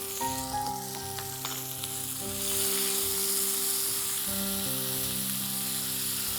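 Boneless chicken breast sautéing with ginger-garlic paste in a pan, a continuous close sizzle with occasional stirring scrapes and a low background hum, growing slightly louder midway.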